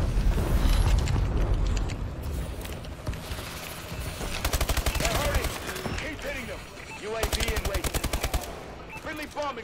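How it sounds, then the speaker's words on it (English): Bombing-run explosions and heavy gunfire in the Call of Duty: Advanced Warfare video game, a dense barrage of booms and rapid bursts, loud and continuous, with a voice speaking over it at times. "Friendly bombing run incoming"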